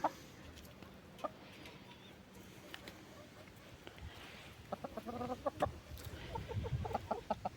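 Hens cluck softly nearby in a garden bed, becoming busier toward the end as they peck at a dug-up onion bulb, with scattered small taps and rustling in a quiet outdoor setting.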